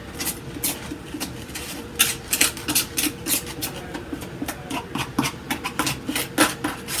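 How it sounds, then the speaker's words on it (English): Plain cold wax spread thickly onto a large painting for texture, a steady run of close, dry scraping and rasping strokes in quick uneven rhythm, no voices. "For texture, you can also add just plain cold wax and just put it on thickly."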